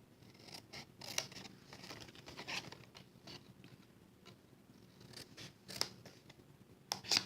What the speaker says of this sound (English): we are going to snip or cut up to score lines on both sides.